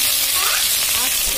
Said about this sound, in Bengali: কড়াই পেঁয়াজ কাঁচা লঙ্কা গোলমরিচ গরম মশলা তেজপাতা শুকনো লঙ্কা সব দিয়ে দিয়েছি। এটা ভাজা হচ্ছে